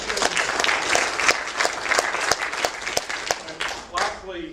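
Audience applause at an Arthur Calwell Memorial Lecture for Labor and union supporters: dense, steady clapping from a full room with a few sharper individual claps, fading near the end as a voice begins.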